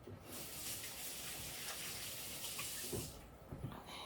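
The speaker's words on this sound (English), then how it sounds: "Let me just rinse my hands" Hands are rinsed under a running kitchen tap, a steady close hiss of flowing water for about three seconds before it is turned off, followed by faint handling sounds.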